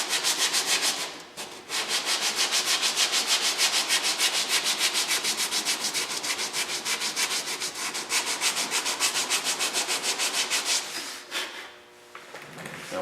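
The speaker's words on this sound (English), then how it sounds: "We're going to take the grinder and we're going to dish that down a little bit" A grinder dishing down a plastic rear bumper cover on a Toyota Prius, a steady close abrasive whir with a rapid pulsing texture, briefly pausing near the start and easing off toward the end.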